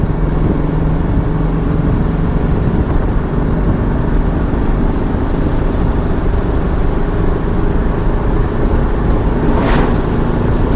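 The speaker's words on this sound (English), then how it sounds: "Feels like it's almost hitting a rev limiter." A 1968 VW Type 3 engine runs at high revs on a test drive, a loud, dense, steady drone with a pulsing quality near the rev limiter that holds throughout.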